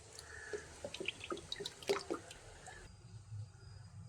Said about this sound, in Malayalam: ഇനി ഒരു പാൻ ചൂടാകുമ്പോൾ അതിലേക്ക് നമുക്ക് വെളിച്ചെണ്ണ ഒഴിച്ചു കൊടുക്കാം